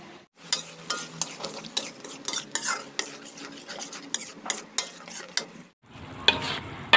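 Sliced tomato and bird's eye chili stir-fried in oil in a pan, a busy run of close spatula scrapes and clinks over a sizzling bed, pausing briefly near the end before resuming.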